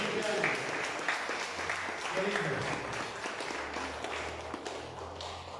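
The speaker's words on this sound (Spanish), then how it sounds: "Y esto merece un aplauso" Church congregation applauding during a worship service, steady broadband clapping filling the room while someone speaks over it and music plays low beneath.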